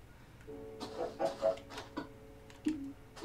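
A few soft, quiet Minecraft chicken clucks in a short irregular series over a low background hum.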